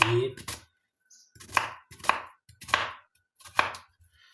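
An onion being chopped with a knife on a board, five or six sharp distinct chops spaced roughly half a second apart with short pauses between, close up and with no talking.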